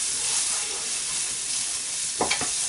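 Onions frying in a pan alongside bacon and garlic give a loud, continuous sizzle, with a pair of quick stirring scrapes near the end.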